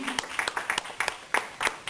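A church congregation gives a short burst of applause, with a series of crisp, separate claps in a loose rhythm over a couple of seconds, close and moderately loud.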